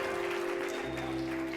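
A church congregation applauds at a worship conference, a steady wash of clapping lasting under two seconds, moderately distant, with a sustained tone underneath.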